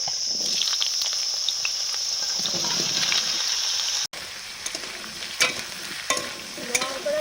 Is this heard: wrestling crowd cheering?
no